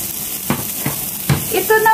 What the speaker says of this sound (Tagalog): minix ko ang pork and liver. Igigrill ko to at kakainin ko